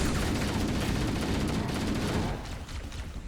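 Gunfire in Halo: Combat Evolved, a sustained loud burst of rapid shooting that runs continuously for a couple of seconds, then drops to a quieter, scattered rattle of shots.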